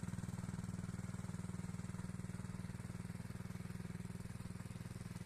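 A small tractor drags a harrow across a vegetable garden. Its engine chugs in a fast, even, steady pulse that stays loud and close throughout, with no voices.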